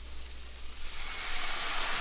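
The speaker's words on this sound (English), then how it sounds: "I'm deglazing a pan." A cast iron pan being deglazed for a vegan holiday dish gives a steady, close, hissing sizzle that swells a little louder partway through, with no voices over it.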